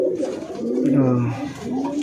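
A flying pigeon kept in a home loft coos in a low, throaty, wavering call held for about two seconds, close and clear.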